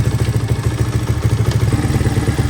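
A 1983 Honda XR200R single-cylinder dirt bike engine idles steadily after its first start following a top end rebuild, a loud close rhythmic thumping with a light mechanical clatter and no voices.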